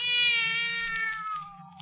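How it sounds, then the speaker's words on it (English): A cat sound effect from a 1945 radio drama adaptation of Poe's The Black Cat: one long, drawn-out wailing meow, loud and close, with a faint low hum underneath. "Oh, there's a cat now."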